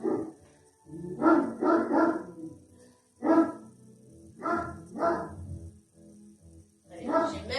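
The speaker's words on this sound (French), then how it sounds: "j'ai même le chien qui nous fait visite" A dog barks several times in short bursts during a home HIIT cardio workout, the yaps fairly close and loud with quiet gaps between them and a voice briefly talking.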